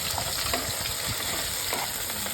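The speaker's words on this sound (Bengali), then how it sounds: "এদিকে আমি ঝিঙেটা ভাজছি তরকারি জন্য" Sliced ridge gourd fries in hot oil in a pan, giving off a steady, close sizzle with light crackling throughout.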